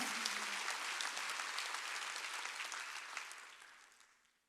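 A church congregation at a Wednesday worship service claps together in a dense, sustained burst of applause that gradually fades out toward the end.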